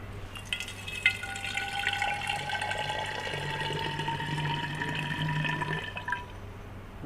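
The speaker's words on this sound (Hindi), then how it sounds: "हाँ जी, एक बार मैं इसमें पानी डाल के दिखाता हूँ आपको।" A continuous stream of water fills a clay pot, its ringing pitch climbing as the level rises, then stopping near the end; close and clear with no talking.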